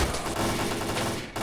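Gunfire in S.T.A.L.K.E.R. Clear Sky, a loud rapid burst of automatic shots rattling continuously at close range for about a second and a half.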